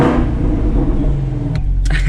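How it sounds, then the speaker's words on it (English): A 2019 Chevrolet Camaro ZL1 1LE engine rumbles loudly at close range with a deep, steady idle, then blips in a couple of short revs near the end. "Got a couple revs for you guys."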